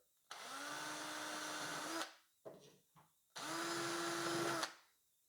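A power drill bores hinge holes through a Veiko hinge jig in two loud, close bursts of about two seconds each, its motor whining steadily, with brief clatter in the gap between them.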